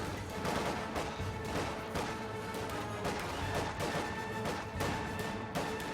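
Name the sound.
heavy machine gun fire, Company of Heroes video game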